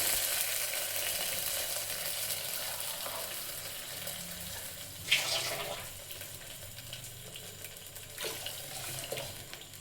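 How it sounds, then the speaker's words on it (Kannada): Water pours and splashes into a pot of rice amid a soft sizzling background, with a sharper splash midway and a few smaller ones later. "ಇವಾಗ ನೀರನ್ನ ಹಾಕೊಳ್ಳಿ"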